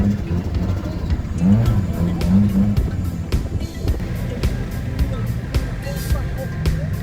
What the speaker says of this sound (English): Now the drifters coming back into the pit area.